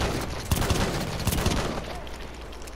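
Gunfire in a Battlefield 1 team deathmatch, a burst of several sharp shots clustered near the start and middle, fading to quieter background rumble toward the end.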